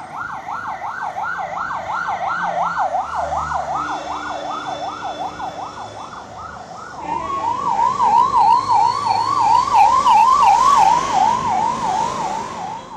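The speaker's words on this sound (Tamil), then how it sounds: "அப்போது அப்பகுதியில் விரைவாக சென்ற ஆம்புலன்ஸ் வாகனத்திற்கு வழிவிடும் வகையில்" An ambulance siren wails loudly on a road during a memorial gathering in Tamil Nadu, its long rising and falling tone switching to a faster, quicker-cycling wail midway as the vehicle passes close by, with traffic noise beneath.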